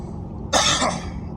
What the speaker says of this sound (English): Why the hell I keep coughing for, bro?